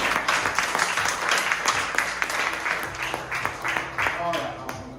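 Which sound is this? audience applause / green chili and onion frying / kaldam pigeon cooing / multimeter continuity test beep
audience applause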